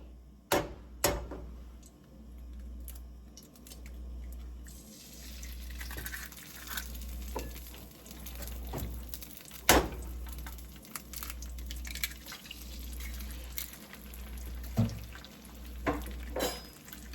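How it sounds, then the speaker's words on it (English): An egg is cracked with a couple of sharp knocks and dropped into a pan, then frying begins as a soft, steady sizzle broken by scattered pops and utensil taps. "I'm just gonna crack my egg and put it right in my pan"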